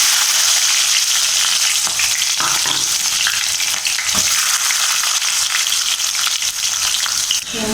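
Garlic and small shallots frying in oil with fenugreek, cumin and curry leaves, a loud, dense, steady sizzle close up with occasional stirring clicks and no talk.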